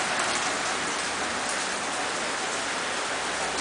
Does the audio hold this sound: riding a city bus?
no